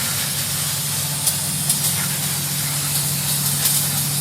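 Cleaner sprayed onto the rear brakes of a Ford F-150 gives a steady, close hiss over a low hum, with a few faint clicks and no talking.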